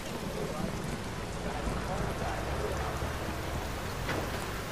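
Steady rain falls on city streets in the open-world game Watch Dogs, a dense continuous hiss of drops on surfaces with a low rumble beneath, even and unbroken throughout.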